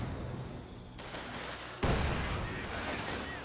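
Gunfire in a Company of Heroes 2 battle, with sustained distant shooting and a sharper report partway through over a constant rumble of combat.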